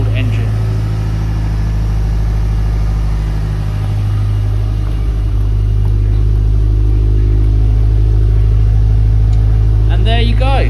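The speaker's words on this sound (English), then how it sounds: "I'm not gonna go rev it up completely. It is a cold engine." Cold-engine revving of a JDM Subaru Impreza STI Hawkeye, loud and steady with a deep low rumble throughout and a sharper rise near the end, close by with no talk over it.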